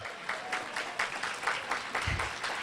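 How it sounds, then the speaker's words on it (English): An audience at a business seminar gives the consultants in the room a round of applause: dense, steady clapping from many hands, fairly close, with no voices over it. "You'll give our consultants a big round of applause."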